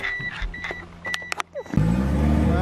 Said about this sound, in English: let's just start the car for a minute